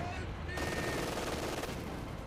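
MG-34 machine gun fire in Company of Heroes 2, rapid sustained bursts crackling continuously for a couple of seconds amid battle noise, with a commentator talking over it.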